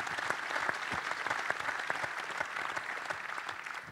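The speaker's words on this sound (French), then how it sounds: "Vous pouvez l'applaudir." Audience applause at the FDJ SUEZ women's cycling team presentation for 2023, a steady dense clapping that fills the room for several seconds, moderately loud with no talk over it.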